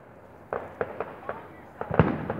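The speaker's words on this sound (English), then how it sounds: "seeing little bits of fireworks here" Canada Day fireworks pop in a series of quick, sharp cracks at moderate distance, scattered over a couple of seconds and ending in a denser flurry.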